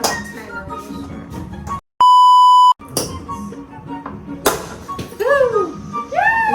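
A kitchen timer gives one loud, steady electronic beep lasting under a second, cutting through surrounding clatter of clinking glass and utensils, with a few chirpy squeaks afterward.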